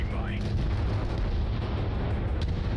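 A siege tank cannon fires in the video game Crossfire Legion as a dense, continuous, heavy booming rumble that fills the whole stretch at steady loudness.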